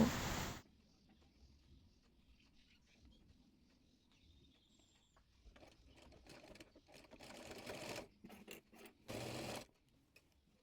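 Sewing machine stitching folded piping fabric onto an umbrella frock, a quiet steady whirr with bursts of louder, denser stitching toward the end, including a strong run near the close.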